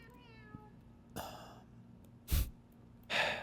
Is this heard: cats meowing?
yes